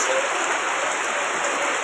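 Steady evening rain pouring down, a dense even hiss of drops on surfaces with no pauses, fairly close and constant throughout.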